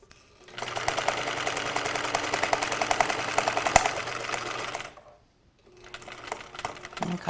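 A sewing machine stitches a hem on woven fabric in a fast, steady close-up whir for about four seconds, stops briefly, then starts running again.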